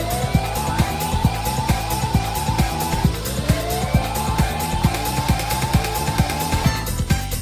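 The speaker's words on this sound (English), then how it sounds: "I really like the way that they sample the second half of the siren like that" Music from the video game Sonic CD, with a sampled siren sweep riding over a driving, busy electronic track with steady punchy beats, loud and continuous throughout.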